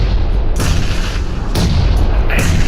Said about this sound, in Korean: 앞에 수류탄 수류탄